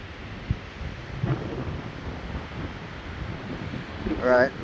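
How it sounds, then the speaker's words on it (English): Strong wind gusts roar during a windstorm in Billings, Montana, a steady broadband rush buffeting the microphone, with a louder surge building near the end. "Here comes another gust."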